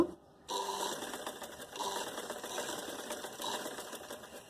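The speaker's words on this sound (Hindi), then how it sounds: "सिलाई लगाते जाएं।" An electric sewing machine runs steadily, stitching decorative thread cord, a continuous close whirring rattle after a brief quiet start, with no voices.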